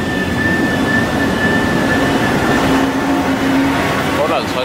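An IC4 passenger train running between Horsens and Esbjerg gives a loud, steady rolling roar with a constant whining tone held throughout, heard from on board.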